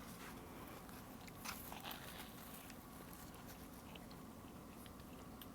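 A soft potato dinner roll from a 1930s recipe is bitten into up close, giving a faint, muffled crunch and chew against steady background noise.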